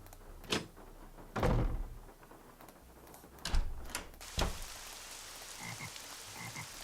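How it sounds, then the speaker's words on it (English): A frog in the Nancy Drew: Legend of the Crystal Skull video game gives several sharp, separate croaks at irregular intervals over a soft ambient background, with no talking. "I liked hearing that frog."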